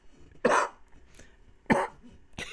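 Two sharp coughs a little over a second apart, close and fairly loud, with a third starting at the end; quiet room between them.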